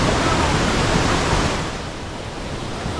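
Dense, rushing roar of a large waterfall, a South Indian Niagara-style cascade, pours steadily and loudly, easing slightly in level partway through but never stopping.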